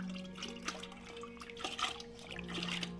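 Water is scooped and dribbled at a pottery demonstration, giving soft intermittent trickles and splashes under a low steady room hum, faint and close, with no talk.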